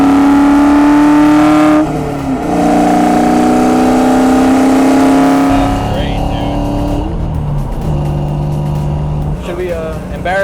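A 1995 Ford Mustang Cobra with a Borla catback exhaust revs loudly and accelerates, engine pitch climbing then dropping through shifts, close and dominant, with voices talking underneath.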